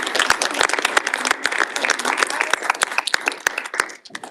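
A modest audience at an annual society meeting applauds, with distinct individual claps standing out in a lively, uneven patter that thins and fades out near the end.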